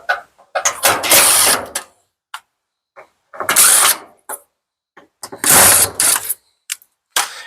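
Power drill backing screws out of the lint housing on a Samsung dryer, in several separate loud whirring bursts of a second or so each, with short clicks and quiet gaps between them.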